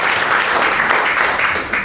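Audience applause fills the room as steady, fairly loud clapping from a crowd that holds throughout and fades slightly at the end.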